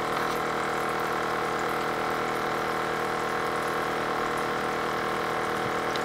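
An aerator pump on a minnow bait bucket runs with its lid open, giving a steady close-up hum with bubbling, gurgling water that stays constant and fairly quiet throughout.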